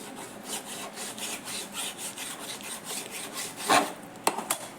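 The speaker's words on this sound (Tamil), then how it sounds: "முதல்ல சிக்கனை கட் பண்ணிக்கலாம்" A knife saws through raw chicken, cutting it into pieces for homemade KFC-style fried chicken: a steady series of soft rhythmic rasping strokes, close and fairly quiet, ending in a couple of sharper louder cuts.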